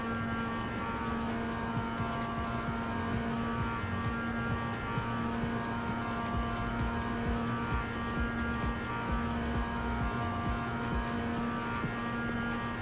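A GT3 race car engine in the iRacing game at the Spa circuit, a loud continuous drone that swells and revs steadily throughout, with no talking over it.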